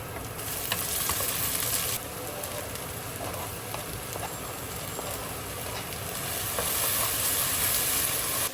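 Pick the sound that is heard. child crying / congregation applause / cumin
cumin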